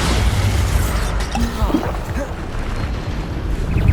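Bombarda blast spells in the Hogwarts Legacy video game on hard difficulty: a loud, sustained rumbling burst of explosive noise fills the whole stretch, dense and close, with a brief crackle partway through.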